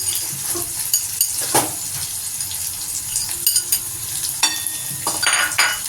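Garlic, ginger and green chili fry in a pan, a steady sizzle broken by the scrape and clatter of a utensil stirring against the metal.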